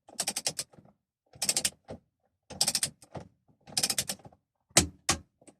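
A torque wrench tightens a steering wheel bolt on a VW Golf/Jetta Mk5, heard as four quick bursts of close ratcheting clicks separated by short pauses, ending with a sharper clack.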